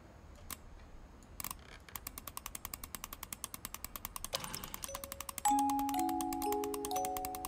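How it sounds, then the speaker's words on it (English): A music box key being wound in What Remains of Edith Finch: a quick run of evenly spaced, close ratcheting clicks, after which bright chiming notes of the tune ring out over quiet background. "Warum hat sie nie die Musikbox so lange gedreht, bis der Schlüssel rauskam?"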